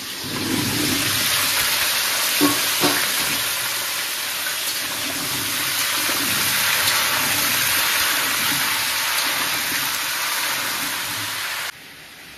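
Potatoes fry in a pan with a steady, dense hiss that holds level for about twelve seconds and then drops abruptly near the end.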